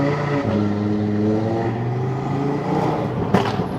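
Fully built Audi RS3 with forged rods, forged pistons and a hybrid turbocharger, its engine droning loud and steady with rising and falling harmonic tones and a sharp pop near the end.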